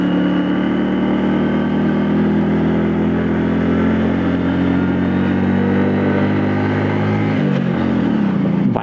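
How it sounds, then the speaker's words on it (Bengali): A motorcycle engine labours steadily uphill toward Nilachal, a loud, close, droning hum that holds for several seconds before its pitch sags and the note falters near the end. "বাইকের দম বের হয়ে গেছে রে।"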